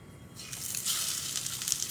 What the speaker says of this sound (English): It's sizzling, so that's a good sign.